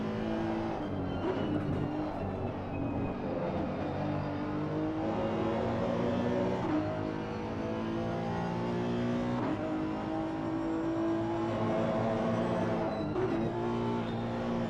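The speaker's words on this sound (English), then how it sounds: "the sound of that V10 is beautiful" A high-pitched V10 race car engine revving hard and continuously during a race at Kyalami, its pitch sweeping up and down through gear changes, loud and close throughout.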